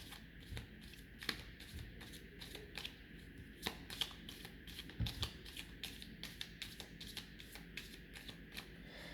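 Tarot-style cards are shuffled by hand close up, a fast run of soft slaps and flicks in an uneven rhythm, fairly quiet against a faint background hum, with no speech.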